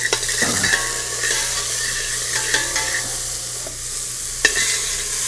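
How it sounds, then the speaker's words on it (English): Finely minced onion sweating in a pan for risotto, giving a steady close sizzle broken by a few light scrapes of stirring, with no one talking. "saute that so that we sweat the onion"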